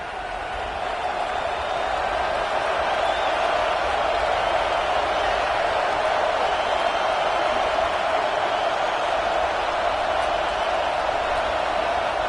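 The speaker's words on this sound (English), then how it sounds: "how nice is it to have the home crowd going absolutely bananas?" Home college football crowd cheering during a game against UCLA, a dense, steady roar that holds loud and unbroken throughout.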